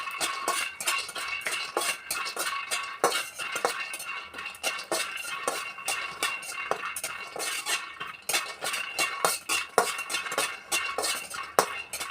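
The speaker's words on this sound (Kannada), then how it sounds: "ನೋಡಿ ಈ ಥರ ಸ್ವಲ್ಪ ಫ್ರೈ ಮಾಡ್ಕೊತಾ ಇದ್ದೀನಿ." Peanuts roasting in a pan for homemade puliyogare powder, stirred with a metal utensil that makes steady clinks and scrapes throughout, with only faint sizzle, close and unaccompanied by talk.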